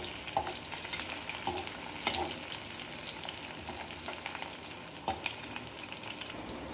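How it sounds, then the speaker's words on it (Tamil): Crushed ginger and garlic fry in a pan for a country-chicken dish, a continuous close sizzle broken by scraping stirs and occasional spoon clacks, no talking. "இந்த இஞ்சி பூண்டு பச்சை வாசம் போகிற வரைக்கும் நல்லா வதக்கிக்கலாம்"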